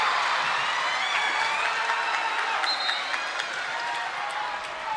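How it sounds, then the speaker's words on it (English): A high school volleyball crowd in a gym, Sharyland versus McAllen Memorial, keeps up a steady wash of cheering and clapping after a point, with scattered shouts, fairly distant and even in level. "You can see half the crowd go wild on every point."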